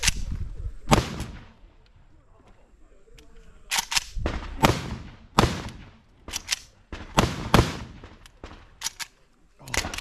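IWI Galil Gen 2 7.62x39 pistol fired with a 40-round magazine, loud close gunshots spaced irregularly, a few singly and then quicker clusters, with brief quieter gaps between.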